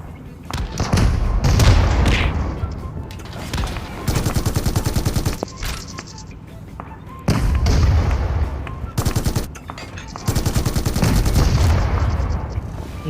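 Heavy gunfire and explosive blasts in PUBG Mobile tank mode, with bursts of rapid shots alternating with big booming rumbles across the whole stretch, loud and close, with no speech over them.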